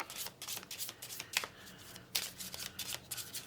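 Tarot cards shuffled by hand, soft riffling and flicking in short irregular bursts, quiet and close with no talking.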